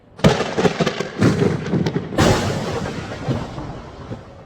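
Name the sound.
lightning sound effect for game sound design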